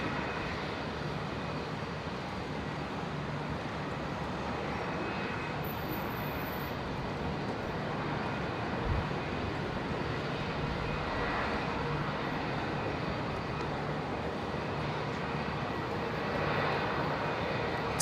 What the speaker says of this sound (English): There it is. There's the C17.